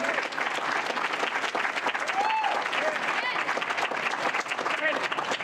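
An audience at a charity ball applauds a comedian with dense, sustained clapping from a large crowd, loud and even throughout.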